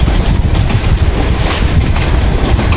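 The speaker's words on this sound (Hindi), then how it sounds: "दोस्तों भी ट्रेन हमारी पास हो रही है जोड़ा करनाना रेलवे स्टेशन से।" A Millat Express train passes Jora Karnana railway station, giving a steady, loud rumble of rolling wagons with wind buffeting the microphone and faint rhythmic clatter, and no voices.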